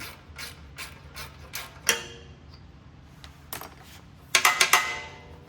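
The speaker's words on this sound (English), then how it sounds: "Put your nut on, tighten that." Nut being tightened onto a bolt on a target arm setup, giving a series of sharp metallic ratcheting clicks in bursts, with a louder cluster of rapid clicks near the end, close and clear with no talk.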